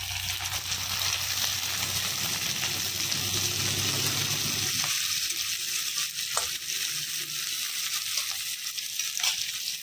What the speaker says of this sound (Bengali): পেঁয়াজ ভাজা হয়ে গেছে, এখন দিয়ে দিলাম অনেকগুলো কাঁচামরিচ।